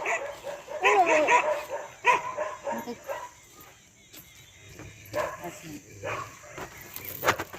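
Dogs bark and yip in short bursts at moderate distance, with people talking over them and some background noise.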